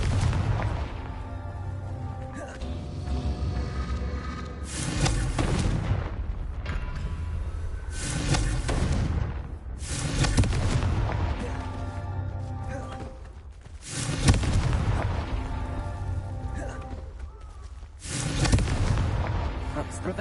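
The Confringo blasting spell in Hogwarts Legacy sets off a string of loud, booming explosions, each landing as a sharp burst with a rumbling tail, under a spoken incantation.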